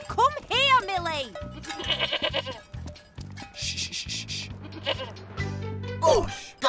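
A goat on a farm bleats in loud, wavering cries, two close together at the start and another near the end, with people talking over the gaps.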